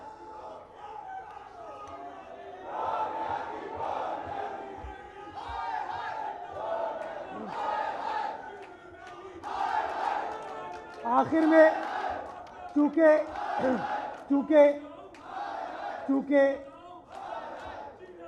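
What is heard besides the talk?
crowd chanting political slogans at a rally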